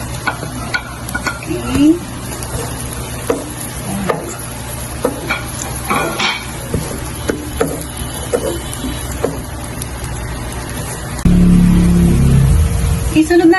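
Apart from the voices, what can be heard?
garlic and onion sautéing in pan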